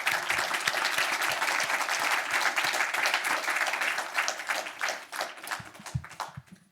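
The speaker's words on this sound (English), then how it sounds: "Please join me in giving both Nancy and Francine a very warm round of applause." Audience applause at a symposium, a dense, steady clatter of many hands that holds strong for about five seconds, then thins into scattered individual claps as it dies away.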